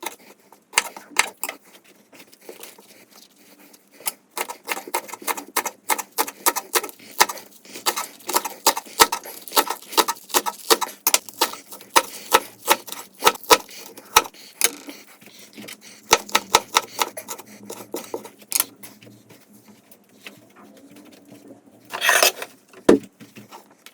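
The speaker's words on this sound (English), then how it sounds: "Cut the spring onion." A knife chops spring onion on a cutting board for a home sausage curry, a long run of rapid, sharp, evenly spaced taps that speeds up in bursts and then slows, close and clear with no voices.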